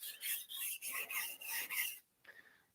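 A Korin inox petty knife is rasped along a whetstone in steady back-and-forth strokes, about five close, bright scraping passes, then a pause and a fainter short stroke.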